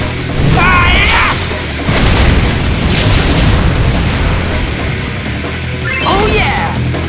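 Fire spell from Crisis Core Final Fantasy VII blasting in battle, a loud rumbling explosion sustained across several seconds with crackling bursts and a voiced shout at the start and end.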